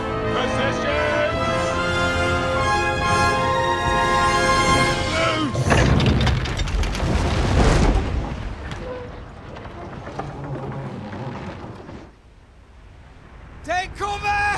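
Battle sounds from Kingdom Come Deliverance II: a dense mix of shouting voices, heavy booms and thuds, and chaotic clatter, loud throughout, easing off after the midpoint before sharp sounds return at the close.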